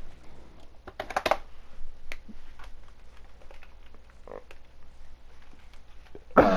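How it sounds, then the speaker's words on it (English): Someone types on a computer keyboard while chatting during an online game session, with scattered clicky keystrokes in small bursts, fairly quiet and sparse, plus a louder clatter near the start and another at the very end. "Don't know why you're typing stuff in."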